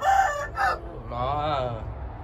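A rooster in a backyard coop crows loudly and close by. Two short clucking calls come first, then one long drawn-out crow.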